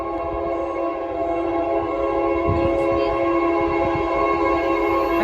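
A Union Pacific/KCS coal train approaches at Horatio, Arkansas, its horn blaring a long, steady chord over a low rolling rumble, loud and continuous throughout.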